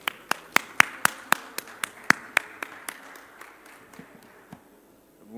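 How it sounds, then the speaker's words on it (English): At a conference, sharp individual claps land in a steady, slowing rhythm, about a dozen of them, and grow gradually fainter. A scattered few keep going at the end. "Let's give ourselves a round of applause."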